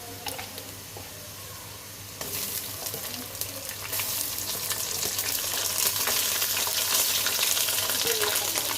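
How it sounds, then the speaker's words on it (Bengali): Onions fry in oil in a cooking pot for a beef curry with chickpea lentils, giving a steady close sizzle that jumps louder and brighter partway through, with faint scraping underneath. "এদিকে পাতিলে পেঁয়াজ আর তেল দিয়ে তরকারিটা বসালাম"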